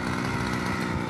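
A lawn mower engine converted into an earth drill runs in a steady, rough buzzing drone, close and continuous for a brief moment with no voices.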